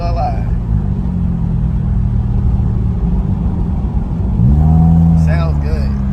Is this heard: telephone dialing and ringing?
no